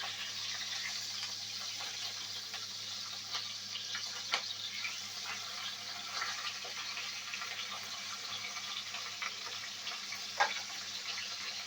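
Fish head rubbed with salt and turmeric, frying in hot oil for a Bengali muri ghonto, gives a steady, fairly quiet sizzle throughout with occasional faint pops and no voices.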